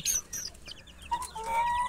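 Young chickens, about one month old, cluck and chirp in a poultry farm barn: a busy flock of overlapping calls at fairly close range, with no one talking.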